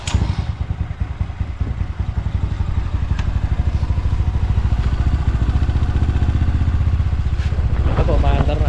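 A Mio M3 scooter fitted with a big valve head is started from cold, its single-cylinder engine catching and settling into a loud, close, steady rapid putter while someone talks over it.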